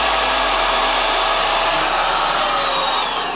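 A hair dryer blows continuously in a hair salon, drying a client's hair after a long cut, a loud steady roaring whoosh held close throughout with no talking.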